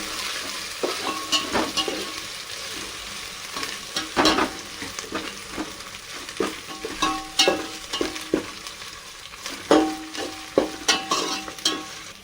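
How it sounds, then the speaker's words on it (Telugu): Green chilies and mint sizzle and fry in a pan while a spoon stirs and scrapes through them in irregular bursts, close and clear with no talking. "అవి పచ్చిమిర్చి, పుదీనా వేసిన కదా, అవి వేగినాయి."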